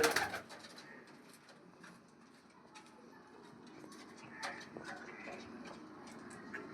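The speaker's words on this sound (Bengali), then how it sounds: "পায়রাগুলো কয়েকটা বেস্ট পায়রা আমরা ধরে দেখাচ্ছি" Pigeons in a loft coo in soft, repeated calls over scattered rustling and wing movement, moderately close and fairly faint after a louder knock at the start.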